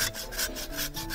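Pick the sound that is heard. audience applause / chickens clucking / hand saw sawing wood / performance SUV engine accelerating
hand saw sawing wood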